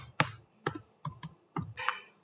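Keys tapped on a computer keyboard while setting up a Django app on Windows IIS: five separate bursts of close, crisp clicks, spaced at fairly even intervals and heard alone.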